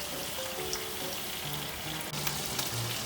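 Keto french fries fry in hot oil with a continuous bright sizzle and crackle, fairly close and steady, with no voices over it.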